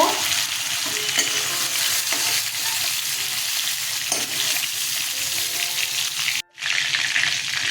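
Fish fry in hot oil in a pan, giving a steady, dense sizzle with occasional stirring scrapes and a brief dropout near the end before the frying noise returns.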